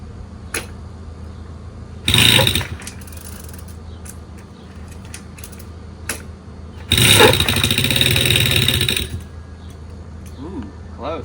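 Old Puch moped engine being cranked and trying to start: two loud bursts of sputtering engine noise, each a second or two long, separated by quieter clinking and handling sounds, with no voice.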